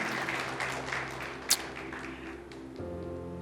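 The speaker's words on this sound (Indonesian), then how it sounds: "Berikan tepuk tangan buat Tuhan kita" A church congregation applauds during a sermon, a moderate patter of clapping over a sustained tonal hum, with one sharp clap standing out midway before the clapping thins out.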